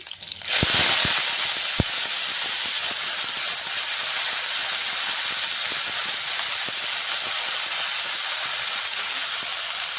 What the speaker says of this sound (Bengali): কারি পাতাটা অনেকক্ষণ সময় ভাজবো